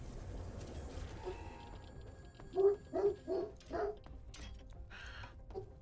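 Dog barking from some distance, a run of four quick barks mid-clip after a softer whimper, with a faint steady engine hum behind it and no one talking.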